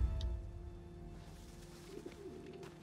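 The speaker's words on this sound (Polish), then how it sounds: "I te gołąbki." Pigeons coo softly in the game Sniper Elite 5, a low, faint murmur set against quiet ambient game background, with no speech over it.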